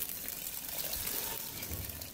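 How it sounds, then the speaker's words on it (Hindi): About a cup of water pours into chicken Manchurian gravy in a pot, a steady splashing gush that runs throughout with no talking. "अब इसमें मैं थोड़ा सा ग्रेवी को ज्यादा थोड़ा पतला करने के लिए पानी डालूंगी।"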